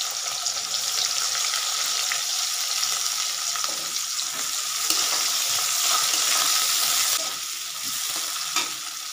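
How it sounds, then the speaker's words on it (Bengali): Chopped onion frying in hot oil with garlic, a dense steady sizzle up close with brief stirring scrapes and a slight drop in intensity near the end, no talk. "এবার আমি পেঁয়াজ কুচিটা দেব।"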